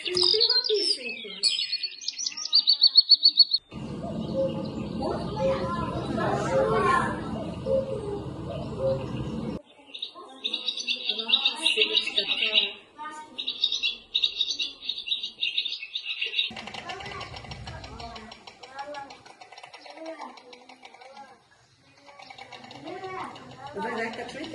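Titmice singing in March, with repeated high chirping song phrases coming in bursts, partly overlapped by a teacher and children talking in a preschool music lesson about the arrival of spring.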